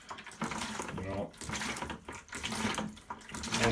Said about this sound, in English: just start squeezing the bulb. And you're going to keep going until you get as much water as you can